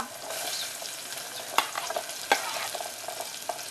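Cumin and asafoetida roasting in hot oil in a pan for a Maharashtrian rassa bhaji, a soft continuous sizzle with a few sharp stirring clinks and scrapes, no talking.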